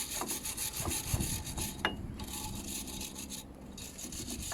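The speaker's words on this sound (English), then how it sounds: "I am going to clean up the brake line a bit." Close, rhythmic scrubbing strokes rasp against a car brake line during a rear brake overhaul on a Polo, a steady back-and-forth rubbing with a few sharper scrapes.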